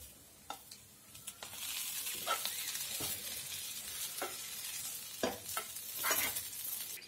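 Prawn fry (chemmeen porichathu) sizzles in a hot pan as the fried prawns are stirred into browned coconut, with steady frying hiss and repeated scraping stir strokes close up, no talking.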